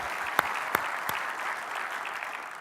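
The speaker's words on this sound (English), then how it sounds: "let's give John Sedine another great round of applause" A conference audience in San Antonio applauds for its outgoing chairman, a soft, distant patter of clapping with a few sharper claps standing out near the start.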